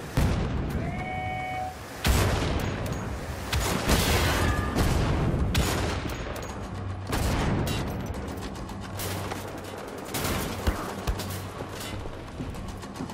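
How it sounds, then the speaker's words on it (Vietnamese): Explosions and gunfire in the video game Wolfenstein: The Old Blood set off a dense, loud barrage of booms and cracks that keeps going for the whole stretch, with repeated heavy blasts and no clear pause. "gì nổ ghê vậy"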